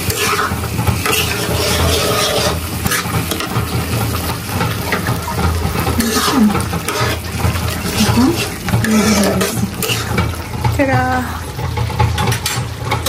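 A homemade Chinese stir-fry gets stirred in a hot pan, with a continuous loud sizzle and repeated scraping and clattering of a spatula close by, and a voice talking intermittently over the cooking.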